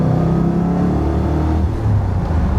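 A De Tomaso Pantera V8 rated around 405 horsepower pulls under light throttle, a loud, steady low engine drone heard from close by without talk.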